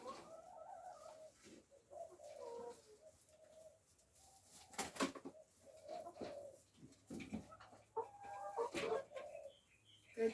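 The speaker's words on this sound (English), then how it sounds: "Good chickens." Backyard hens murmur and cluck softly in short, scattered bursts close by, with a few sharper clucks and rustling scratches between quieter stretches.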